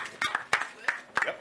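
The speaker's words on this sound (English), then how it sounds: "Well, we're going to give her a round of applause because she's out here working." A few sparse claps ring out at an outdoor ground-breaking ceremony for a renewable energy project, spaced irregular hand claps from a small group, with talk mixed in.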